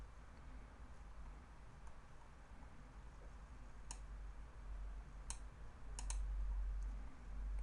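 A computer mouse gives a few sharp, faint clicks, single and in a quick pair, over a low steady room hum with no speech.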